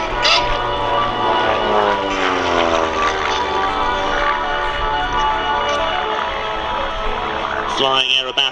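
Propeller aircraft of an aerobatic formation team displaying at an air festival, a droning engine note that sweeps through rising and falling pitch as the planes pass, heard continuously under a public-address commentator talking throughout.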